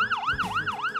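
A fire truck siren wails in a rapid rising-and-falling sweep, cycling about three times in quick succession, loud and clear with no talking.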